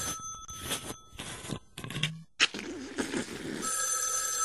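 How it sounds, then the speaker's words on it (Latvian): Old telephone bell ringing in a comedic Latvian TV episode, bright metallic rings in short bursts with a clear strike midway, loud and close over a busy room, with no speech. "Tas ir telefons. Tur, kakta, vot."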